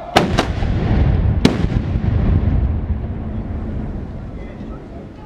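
Ceremonial cannons and Böller salute guns fire at a gathering of Saxon shooting clubs: two sharp bangs in quick succession, then a third, each followed by a long, rolling boom that slowly fades.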